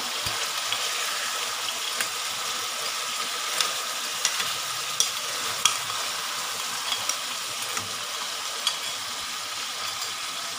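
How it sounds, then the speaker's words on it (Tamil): Shrimp and crab curry gravy being turned over in a pan: a soft continuous simmering sizzle punctuated by scattered spoon scrapes and taps, nearby and moderate, with no talking. "இப்போ வந்து இதை பிரட்டி விட்டுக்கலாம் பதமாக பிரட்டி விடணும்"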